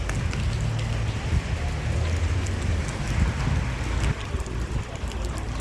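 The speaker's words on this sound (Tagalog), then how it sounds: "Umuulan." Steady rain pours down in Kuwait, a dense hiss of drops pattering on a surface, with some low wind rumble underneath.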